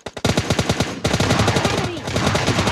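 Gunfire from a DP-28 light machine gun and Mk14 rifle in a battle royale video game: loud, close rapid bursts of shots in a fast steady rhythm, briefly pausing before resuming with more overlapping shots.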